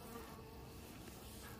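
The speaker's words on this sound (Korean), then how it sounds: "많은 말벌이 이 안으로 지금 기어 들어왔다" Hornets buzz faintly while crawling into a trap, a soft continuous insect drone with no voices.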